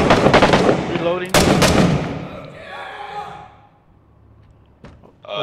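Rapid bursts of rifle fire ring out close in the war game Six Days in Fallujah, then fade into quieter rustling and a few isolated thumps, with a voice and breathing between shots.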